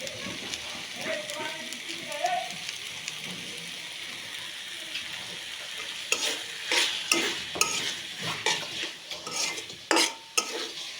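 Noodles stir-fried in a pan, a soft sizzle at first and then louder, rhythmic scraping and tossing strokes of a utensil against the pan, close up.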